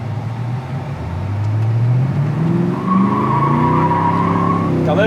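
A 1988 Fox Body Mustang accelerates hard on the road, its engine note climbing steadily in pitch through a gear and rising again, loud and close with road and tire roar underneath.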